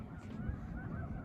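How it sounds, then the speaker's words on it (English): Hundreds of sandhill cranes calling at a wildlife refuge along the Rio Grande, a dense distant chorus of rolling honks under a low rumble of wind. "So what you're listening to are hundreds of sandhill cranes."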